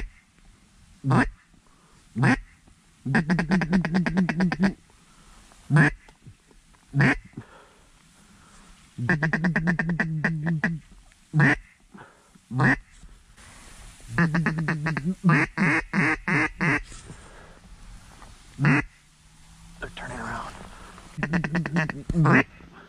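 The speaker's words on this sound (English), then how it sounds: "Two ducks right here." Ducks quack in repeated bursts of harsh, rhythmic calls on public land during a duck hunt, loud and close, separated by quiet gaps with a softer call near the end.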